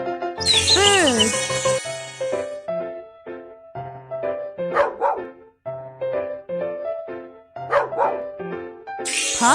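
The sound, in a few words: puppy barking in a cartoon hearing test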